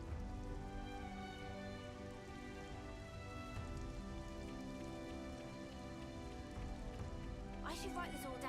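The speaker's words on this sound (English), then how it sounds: "Looks like it's gonna rain." Steady, close rain from the video game Xenoblade Chronicles 3 patters continuously under a layer of sustained musical tones, with a short burst of clicks near the end.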